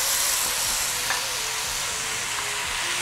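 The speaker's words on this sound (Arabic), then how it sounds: "رح نضيف الطماطم المقطعة. We'll add the chopped tomatoes." Chopped tomatoes hit hot oil with spices and curry for a potato and curry stew, giving a steady, close sizzle and hiss that runs unbroken throughout, with faint stirring and no talking.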